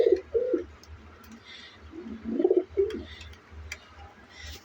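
Pigeons coo in soft, low rounded phrases close by, with a few faint chirps and light clicks in between, and no talking over them.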